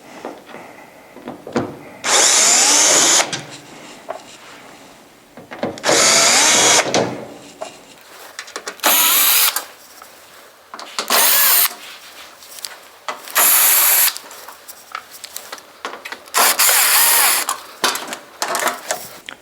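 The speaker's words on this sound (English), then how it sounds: "Just to speed things up, I'm going to use a drill." A cordless drill with a Phillips bit whirs in repeated short bursts removing screws from an appliance cabinet, loud and close, with quiet clicks and handling noises between each run.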